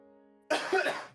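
One sharp, fairly loud cough breaks in after a quiet tonal hum, rough and breathy, trailing off within a second.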